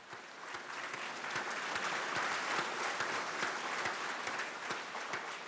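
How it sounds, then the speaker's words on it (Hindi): Indian space scientists applaud the success of the Mars mission, with sustained, dense clapping filling the room and holding at a steady level throughout. "भारतीय खलाई साइंसदानों ने मरीख मिशन की कामयाबी का ऐलान तालियां बजाकर किया।"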